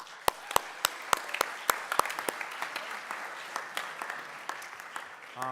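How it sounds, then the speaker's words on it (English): An audience at a school athletic awards ceremony claps for a basketball team, a few loud individual claps opening into scattered applause that thins out toward the end, indoors and fairly close. "I think it deserves a round of applause."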